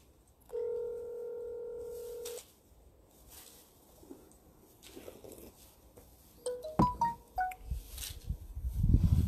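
A telephone line gives a steady dial tone for about two seconds, and a burst of keypad dialing beeps follows. Faint rustling and handling noises run between them, and everything is close and fairly quiet.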